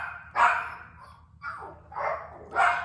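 A dog barks indoors, four sharp, fairly close barks spaced about a second apart, with quiet room tone in between.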